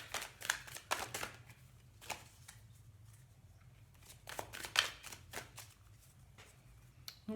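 Tarot cards are shuffled by hand in quick, papery riffling bursts, close and fairly quiet, repeating irregularly over a low background hum.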